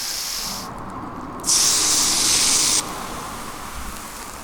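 Water sprays from a metal garden hose as a steady hiss, growing louder and sharper for a moment when the flow is pinched, then easing back, close by with no talk.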